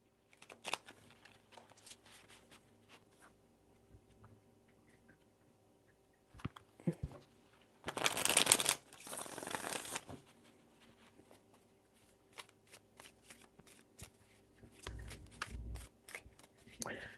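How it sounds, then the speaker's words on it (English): Tarot cards are shuffled in quick riffling bursts, one long burst and a shorter one later, with scattered soft handling clicks and a voice speaking in between. "Three shuffles."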